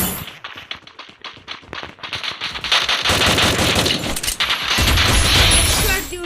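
Rapid bursts of automatic gunfire from the Free Fire video game, sparse single shots at first, then dense, loud sustained firing that fills the rest of the moment.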